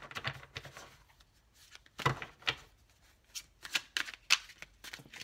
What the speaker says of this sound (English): Let me just cut the deck and just go on with my life.